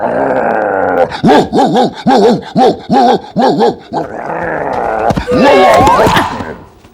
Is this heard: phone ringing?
no